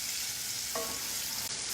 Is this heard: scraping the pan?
yes